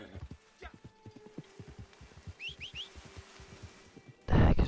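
Rhythmic hoofbeats of a horse in the video game Red Dead Online clip-clop steadily, a few short high chirps overhead, ending in a sudden burst of noise.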